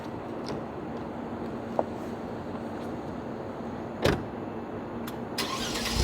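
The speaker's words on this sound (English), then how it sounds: "the stock Kia Stinger has its own burble tune." Stock Kia Stinger sitting outdoors with the engine running at a steady low idle and a brief burst near the middle that may be the startup burble, with no talking.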